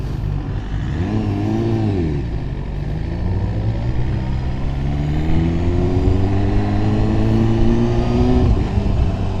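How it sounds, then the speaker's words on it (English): 2018 BMW S1000RR inline-four motorcycle engine heard from the rider's seat, loud and close, with rising and falling revs, a whirring tone and smooth climbs in pitch as the bike accelerates. "Weird hearing a V4, inline 4 under me."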